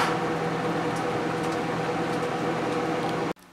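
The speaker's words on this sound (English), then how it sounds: "You place this unopened in the microwave for 1 minute." Microwave oven heating an unopened Prego ready meal pouch for one minute, a steady close hum running evenly until it cuts off abruptly near the end.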